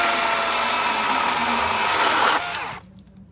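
Power tool cutting into a walnut root ball, a loud, close, continuous buzzing grind that holds steady and then winds down and stops near the end.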